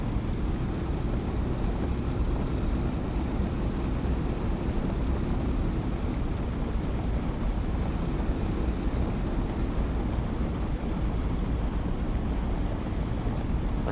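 Jet engine roars steadily during a takeoff run in a DCS or War Thunder flight simulator, with throttle and afterburner booster linked; a dense, continuous low rumble holds at an even level throughout, with no voices.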